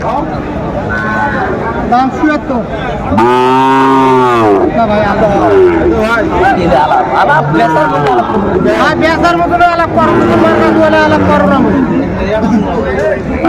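A Sahiwal bull at a busy cattle market gives one deep, strong moo, rising out of a constant din of crowd chatter and close talking voices.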